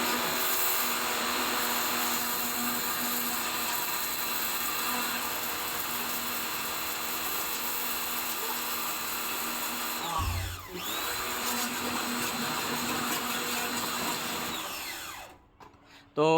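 A DYLECT pressure washer runs in steam mode with a loud, steady motor whine and hiss lasting about fifteen seconds. It dips briefly partway through and cuts off abruptly at the end.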